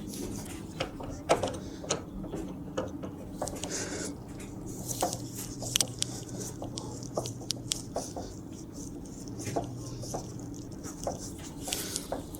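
A Phillips screwdriver works screws out of the rear seat of a motorcycle left sitting in a garden for three years, making steady repeated metallic clicking and ratcheting throughout.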